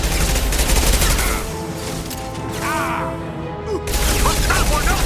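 Gunfire and combat noise from Mass Effect 2 on PC: dense, loud bursts of shots and impacts, with a lull in the middle before firing resumes, mixed with voices.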